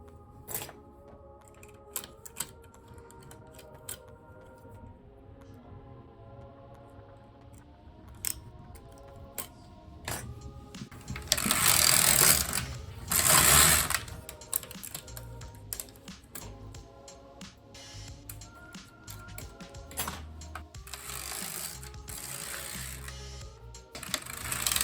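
A knitting machine carriage clacks and rattles as it is pushed across rows of a cardigan, producing close, irregular ticking with louder, rushing passes midway and again toward the end.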